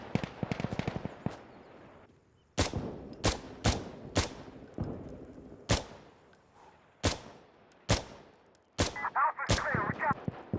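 Rapid bursts and single rifle shots from Insurgency: Sandstorm ring out loud and near in an uneven rhythm, each sharp crack echoing briefly, with a quick rattling flurry at the start and a distant burst near the end.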